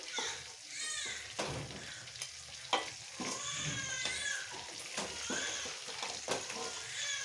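Sheek kababs and winter vegetables fry in a pan with a continuous crackling sizzle, punctuated by several sharp utensil scrapes and taps as pieces are turned and lifted.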